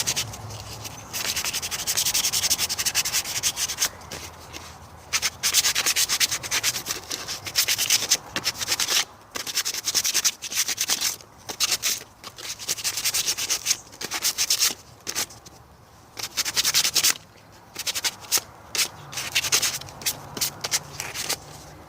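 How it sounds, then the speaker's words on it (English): Sandpaper is rubbed hard over the surface of a handmade dragon egg in quick back-and-forth strokes, producing a close, rough scratching that starts and stops in short bursts. "It's easier when they're together though to sand them."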